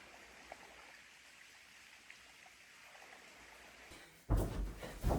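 A stream of crystal clear water flows with a soft, steady trickling hiss, low and close, on a hot summer day; near the end a louder rush of water or splashing breaks in.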